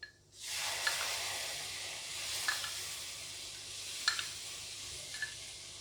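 Milk poured a little at a time into atta flour frying in a pan for laddu sets off a sudden steady sizzling hiss, with occasional clinks of stirring over the low flame.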